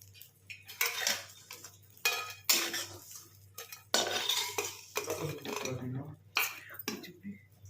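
Golden-brown fried soya chunks are scooped out of a pan onto a plate, with a series of sharp metal clinks and scrapes of a utensil against cookware, separated by short quiet gaps.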